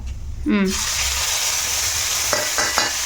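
Onion, coriander and chili paste fry in a pan with a loud, steady sizzle that swells right after the ingredients drop in, with a few light stirring scrapes near the end.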